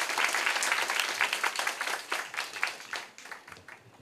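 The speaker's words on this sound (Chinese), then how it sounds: "那既然大家没问题，我们就再一次掌声谢谢李辉" Audience applause fills a conference hall at the close of a talk at COSCUP 2019, an open-source technology conference: steady, dense clapping from a crowd, loud and close, fading slightly near the end.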